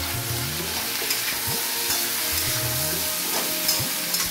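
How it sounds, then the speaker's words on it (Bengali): Spices, salt, turmeric and cumin sizzle with ridge gourd and slit green chili in a pan as dal is prepared: a steady, close crackling fry, with occasional stirring scrapes running under it. "এবার মশলাগুলো খুব ভালো করে কষিয়ে নেব।"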